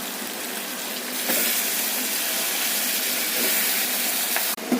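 Tomatoes and vegetables such as eggplant sauté in a pan with salt and turmeric, giving a steady loud sizzle and hiss that jumps up partway through and ends with a brief clatter.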